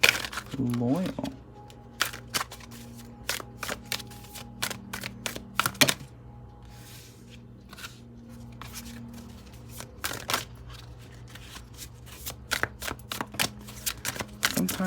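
Tarot cards being shuffled and dealt out for a twelve-card spread, heard as rapid riffling bursts and crisp slaps and flicks of cards close up, with a quieter pause midway and a faint steady hum underneath.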